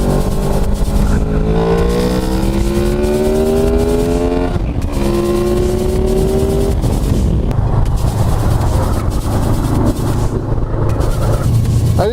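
A Honda Crossrunner motorcycle accelerates on the road, its engine note climbing through two rising gear pulls with a brief break between, loud and close under strong wind rush.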